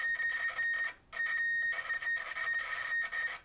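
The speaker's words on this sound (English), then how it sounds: "it does have the nastiest, scratchiest continuity beeper of" A UNI-T UT802 multimeter's continuity beeper gives a harsh, scratchy, buzzing tone close up, sounding in two long stretches separated by a short pause.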